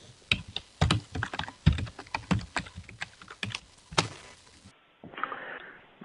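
Keys clatter in quick irregular bursts of typing on a computer keyboard, close and fairly loud, stopping near the end where a softer background sound takes over.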